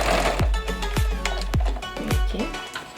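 A sewing machine runs in short bursts to stitch over a seam on a 10x10 inch fabric potty pad. Sharp rhythmic thumps come about every half second, close and distinct, with no voice.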